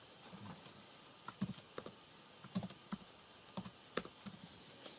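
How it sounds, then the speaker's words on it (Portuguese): Keys clatter on a computer keyboard while a math function is entered into calculus software. The taps come in small uneven clusters, quiet and close, with a soft background hiss and no speech. "Aqui você vai digitar a função que você quer derivar."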